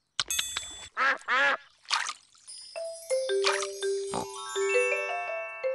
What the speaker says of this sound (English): We are at the pond, and here come the ducks.